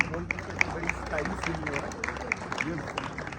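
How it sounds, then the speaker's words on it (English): Crowd clapping for winners at a sports prize ceremony, a steady patter of many hands with scattered sharper claps, chatter and voices mixed in underneath. "And again clapping for them."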